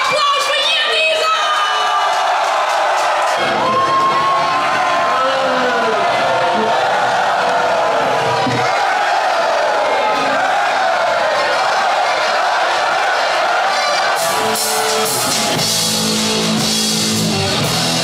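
A large crowd at the AAIPOP 2022 pop festival in Nijlân cheers, whoops and applauds loudly and continuously, with voices mixed into the din.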